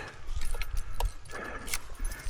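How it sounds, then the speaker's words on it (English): Keys jangling as a motorcyclist pulls them out after a ride, a few short metallic clinks and rattles over a low, steady rumble of background noise. "Get your keys out."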